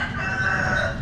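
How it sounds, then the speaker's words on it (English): A rooster crows once in Manila, Philippines, a strained, drawn-out call heard from a moderate distance over light background noise. "Ooh, rooster."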